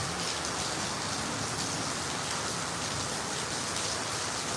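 A downpour of heavy rain roars without pause, a thick uniform wash of drops striking nearby surfaces, loud and alone, with no talking.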